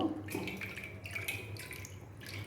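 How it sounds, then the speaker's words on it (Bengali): Water drains and drips from soaked palm pulp for bhapa pitha, a soft, close trickle with intermittent splashy drips, faint and steady without any talking. "এই যে জলটা ঝরিয়ে নেব"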